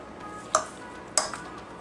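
A spoon clinks twice against a metal pot while spicy chicken with adobo is stirred, two sharp bright taps about half a second apart over a quiet background.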